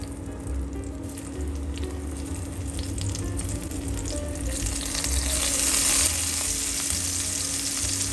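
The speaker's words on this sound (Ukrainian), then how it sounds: "А на сковорідку викладаю цибулю." Onions sizzling and crackling in a hot pan, a steady frying hiss that swells a little louder toward the end, with no voices.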